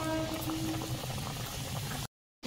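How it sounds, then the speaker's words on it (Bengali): Palm satpuri pitha dropped into hot oil in a karahi, a close bubbling sizzle that runs steadily for about two seconds before cutting to silence. "তেল গরম হয়ে গেছে, একটা পিঠে দিয়ে দিই,"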